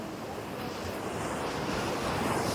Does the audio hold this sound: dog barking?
no